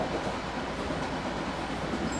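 A subway train in the OpenBVE train simulator runs with a steady, dense rumble of wheels and car noise, loud and continuous throughout with no speech.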